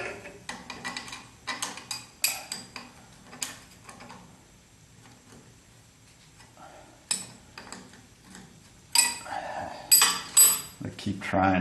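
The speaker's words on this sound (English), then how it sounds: "open end wrench, flipping it side to side because you can't get enough of a swing" An open-end wrench is flipped side to side on a 1976 Corvette half shaft bolt, giving clusters of light metallic clicks and clinks up close, pausing briefly before resuming in busier bursts.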